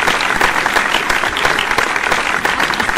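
Loud, sustained applause from a pageant crowd fills the room, a thick, even rush of many clapping hands that holds steady throughout.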